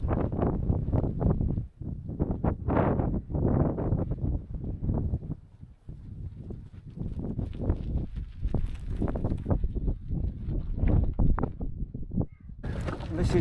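Strong wind buffets the microphone on an exposed coastal trail near Cape Wrath, a constant loud roar with gusting bursts throughout, while a person speaks over it.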